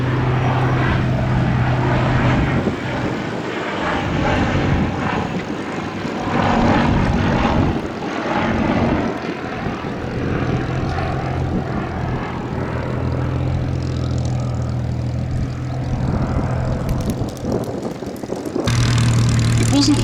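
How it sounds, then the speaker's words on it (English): A Bristol F2 First World War fighter biplane flies past at an air display, its propeller engine droning loud and steady throughout with a slowly shifting pitch as it passes. "he is one of the great fighting aeroplanes of the 1914-18 war"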